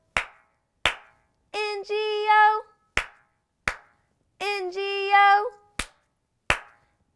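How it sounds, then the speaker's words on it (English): Sharp hand claps mark the beats of the Bingo nursery rhyme, each clean and close, falling in pairs and single strikes between short sung phrases from a child-friendly voice. "Two claps."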